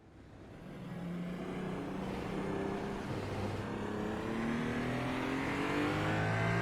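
Hypercar engine at a race start at Road Atlanta in a racing video game, a continuous droning roar that builds in loudness over several seconds, with rising and shifting pitch as the car accelerates, and no talking.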